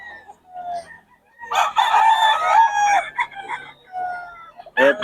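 A hen clucks and calls in bursts among chickens, with a short crow-like squawk in the middle and clipped cackles at the start and end, close and fairly loud.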